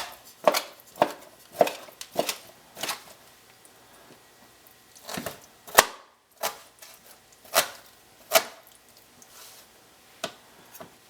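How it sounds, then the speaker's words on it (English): A knife chops cooled, cooked celery into chunks on a board for chicken and barley soup: about a dozen sharp, close cuts in an uneven rhythm, with a short pause midway. "So you cut the celery"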